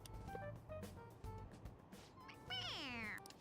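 A toy cat in a video game gives one drawn-out, rising-then-falling meow when its head is pressed. It comes after quieter game sounds and speech.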